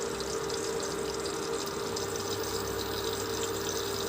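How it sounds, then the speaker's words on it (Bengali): Water poured into ground spices for Bengali-style vegetarian moong dal khichuri gives a steady, even rushing and splashing, close and unbroken for about four seconds, with no voices. "মশলাগুলোকে ভালো করে জল দিয়ে মিশিয়ে নেব।"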